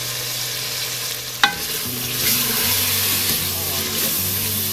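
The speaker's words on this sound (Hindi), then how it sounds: "अब मैं इसको भूनूंगी, क्योंकि इसका मसाले डाले तो मसालों को भूनते हैं अच्छी तरह।" Tomato, garlic, onion, whole garam masala and spices frying in a pot for daal chicken, a steady loud sizzle with a single sharp clank of the spoon as they are stirred.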